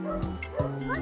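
A small dog yips and barks twice in quick succession, close and loud, with whimpering tones between.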